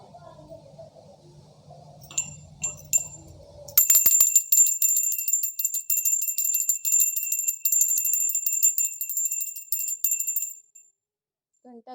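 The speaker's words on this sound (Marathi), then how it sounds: "आणि हे झालं की आपल्याला घंटा वाजवून घ्यायची आहे." A brass puja bell rung by hand during a home worship ritual, a rapid bright continuous jingling that starts abruptly after a few faint clinks and a brief spoken voice, then stops cleanly into silence.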